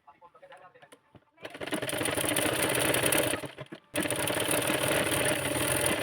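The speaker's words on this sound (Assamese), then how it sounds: "এনেকৈ ভাঁজ এটা দি আকৌ ওপৰতে চিলাই দিছোঁ" A sewing machine stitches a folded piece of blouse fabric in two long, loud bursts of rapid, even needle chatter, separated by a brief pause, after a few soft handling taps at the start.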